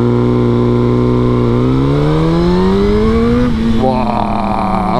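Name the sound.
Suzuki GSX-R 1000 motorcycle engine revving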